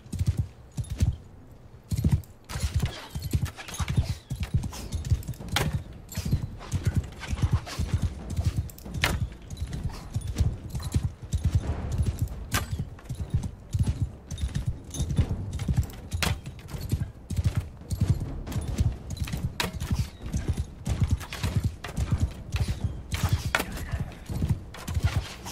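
Horse hooves gallop in Mount & Blade II: Bannerlord, a dense, steady clip-clop rhythm of several mounts running close and loud for the whole stretch, with no speech over it.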